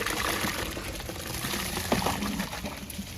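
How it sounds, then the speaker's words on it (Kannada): Washed rice tipped into a pot of hot water for chicken dum biryani, a close, steady pouring and splashing rush with a brief louder slosh midway, no talk. "ತೊಳ್ಕೊಂಡಿರೋ ಅಕ್ಕಿನ ಬಿಸಿ ನೀರಿಗೆ ಹಾಕಿ"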